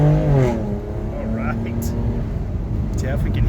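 A 2020 BMW M2 Competition exhaust rumbles and rises in pitch as it revs, heard from inside the car under close, loud talk.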